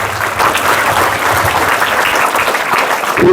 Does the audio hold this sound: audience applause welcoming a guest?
yes